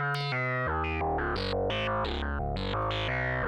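A gritty, overdriven synthesizer with a 24 dB filter and fairly high resonance plays a rhythmic sequence of notes, buzzy and distorted, with no voices.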